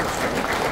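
Dense, continuous clapping from a crowd at a certificate ceremony for Alaman Ulak federation officials, loud and steady throughout.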